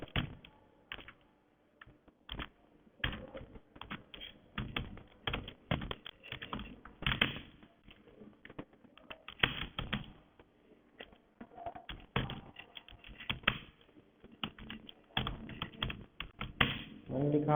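Typing on a computer keyboard while entering text in an office automation program, with steady bursts of clicking keystrokes and brief pauses over roughly seventeen seconds.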